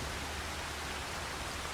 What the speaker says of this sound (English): Well, no, it's still raining.